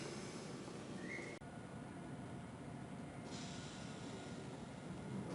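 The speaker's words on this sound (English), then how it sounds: "We're going to take the train to the airport." A train ride in the video game Gabriel Knight: The Beast Within, heading to the airport, carries a steady, muffled rumble of a moving rail carriage with faint wheel noise, continuous and unbroken, with no talking.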